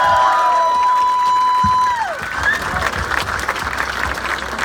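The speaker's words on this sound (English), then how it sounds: "One more round of applause." Military stair climb launch crowd at Nissan Stadium breaking into loud applause and cheering, a sustained wash of clapping with scattered whoops after a steady tone fades out.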